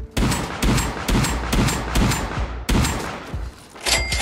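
Rapid bursts of gunfire in the survival game Rust, about eight loud sharp shots in an uneven quick rhythm, each with a short decaying tail, close and with no talk.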